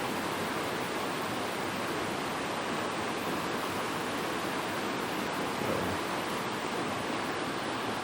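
Steady broadband rush of a small, clear mountain creek flowing in the Smoky Mountains backcountry, continuous and close, with no other sounds over it.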